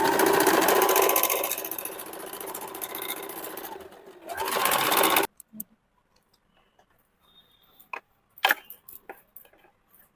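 A sewing machine stitches a kurti seam in a fast, continuous run of mechanical chatter for about five seconds, then stops abruptly, leaving near quiet with scattered faint clicks and handling taps.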